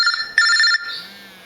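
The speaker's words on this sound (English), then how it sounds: "Now my phone should be ringing fairly soon." A phone rings with an incoming automated call from a GE Simon XT home alarm system. The electronic ringtone is loud, close and tonal, with one brighter burst, then fades away.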